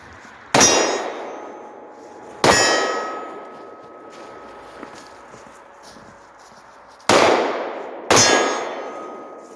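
Pistol shots striking steel targets, four sharp metallic clangs each ringing out and decaying, spaced irregularly in two pairs, loud and close, with no talking between them.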